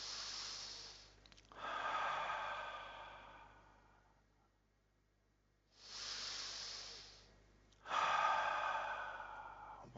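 An audience at a talk takes slow, deep breaths together during a breathing exercise, with two long rushing inhale-exhale swells separated by quiet pauses, soft and airy in a large room.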